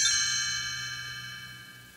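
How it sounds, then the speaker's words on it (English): Read-along page-turn chimes ring once with a bright metallic strike and then fade slowly over about two seconds, clear and alone. "You will know it is time to turn the page when you hear the chimes ring like"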